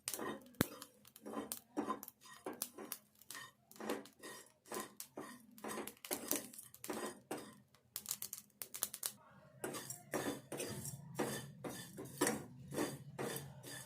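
Whole spices, mace among them, dry roasted in a pan for an old-style raw fish curry, with repeated scraping and clinking of a ladle against the metal at a steady, busy rhythm, close and moderately loud.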